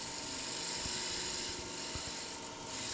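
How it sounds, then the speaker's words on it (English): A bowl gouge slices wood on a lathe, its bottom wing used like a skew to peel fine, wispy shavings from a pin-striped bowl: a steady, close rasping hiss with soft scraping strokes and no talk. "using that bottom wing of the bowl gouge just as a little skew, and that creates these lovely little wispy shavings"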